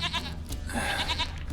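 Goat bleating in The Witcher 3, several close wavering bleats in a row with game ambience behind and no talking.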